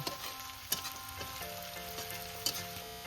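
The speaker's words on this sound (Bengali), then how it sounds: "তাই পেঁয়াজটাকে আগে আমি ভেজে তুলে নেব" Onion frying in oil for a mustard-greens bharta, a steady close sizzle with a few sharp stirring clicks from a spatula against the pan, no voices.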